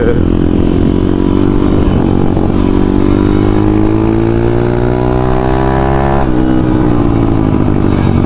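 A newly engined enduro dirt bike revs steadily, its pitch climbing gradually with a brief dip and surge near the end, loud and close with no talking.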